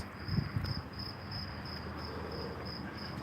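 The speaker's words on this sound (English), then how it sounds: "Listen to the crickets." Crickets chirp at night in a quiet town street near a beach, a faint, steady high-pitched pulsing trill repeating evenly, with a few soft low thumps near the start.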